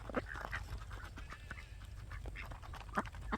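A flock of ducks on a homestead, many of them drakes, gives scattered quacks and raspy calls at close to middle distance, with one louder burst near the end.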